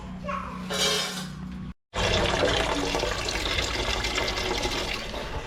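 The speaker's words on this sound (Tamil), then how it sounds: "உலைக்கு தேவையான தண்ணி பிடிச்சிருக்காங்க" Tap water filling a pot in a home kitchen for boiling soaked basmati rice, a steady rushing splash that stops briefly, then resumes, continuous and close.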